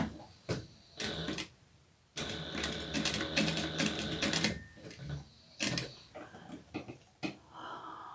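A domestic sewing machine running a back stitch in short bursts, bursts of rapid mechanical whirring separated by brief pauses, close and fairly loud, with no talking.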